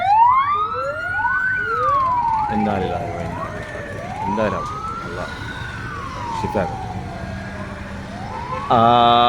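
An ambulance siren wails past on a road, its tone sweeping slowly up and down and growing louder, with a truck engine rumbling beneath and a person talking over it.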